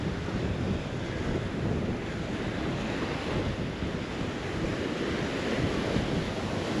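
Rough sea waves crash against a wet jetty at Palmanova, Mallorca, as a steady, loud wash of surf with wind buffeting the microphone throughout and no talk.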